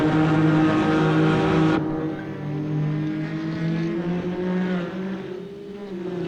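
Porsche GT4 race car in a sim racing championship at Misano World Circuit, its engine droning loud and steady at high revs, then shifting to a slightly lower, sustained tone after a gear change.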